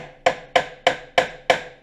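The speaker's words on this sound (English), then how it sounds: "Couple whacks with a hammer" Five sharp metallic hammer whacks on a locked-up starter motor at an even pace, each ringing briefly before the next, close and loud.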